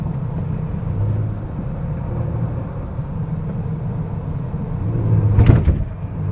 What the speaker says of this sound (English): let's take the G70 through a series of S-bends in sport mode.